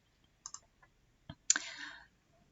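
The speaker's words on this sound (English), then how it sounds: "And then we click and we start to speak." A computer mouse gives a few sharp, isolated clicks, faint and close, followed by a brief burst of louder clicking and rustle, with no voices.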